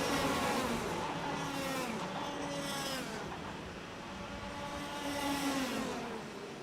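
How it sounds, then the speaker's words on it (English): Racing karts at a championship finale at Kiltorcan, Ireland, drone past in a continuous loud engine whine that rises and falls as they speed around the track. "Joel Murphy urging Jack McLaughlin to help him try catch the race leader"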